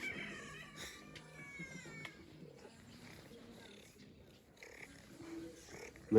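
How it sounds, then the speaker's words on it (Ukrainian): A cat meows several times while bee hives made of polyurethane foam are painted outdoors, rising vocal cries near the start, with someone talking softly throughout and rustling handling noises. "І кіт нам допомагає."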